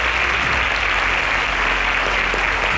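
Steady, dense applause from a crowd, continuous clapping filling the whole stretch at a fairly loud level.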